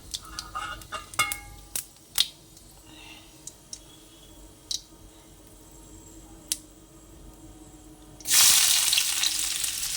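Chopped onions drop into hot oil already holding dried chillies and cumin, setting off a sudden loud hiss near the end. Before that come scattered faint clinks and clucking chickens nearby, with quiet background sounds.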